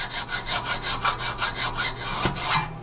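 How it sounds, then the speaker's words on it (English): Rhythmic rasping of a hand file stroking a steel knife blade clamped flat to a steel table, about a dozen even back-and-forth strokes, close and steady, ending abruptly. "you can take a lot of this material off of this knife blade just by filing"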